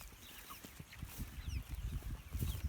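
Chickens clucking in farm pens, a scattering of soft, close clucks and low calls over a rustling outdoor background, with occasional higher chirps from other birds.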